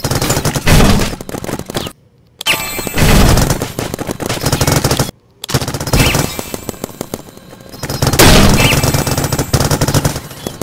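Rapid bursts of paintball gun fire in a big paintball game, loud clattering volleys near and far with short pauses between strings of shots.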